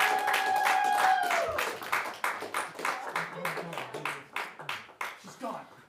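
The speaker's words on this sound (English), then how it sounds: "Give a big round of applause to our next comedian" Live standup comedy audience applauds at a fest as the next comedian is introduced; rhythmic clapping swells, then thins into separate bursts, with a tonal hum underneath at the start.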